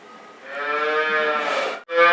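A Holstein cow on a dairy farm gives a long, loud, close moo that swells and holds, then breaks off briefly before a second call begins.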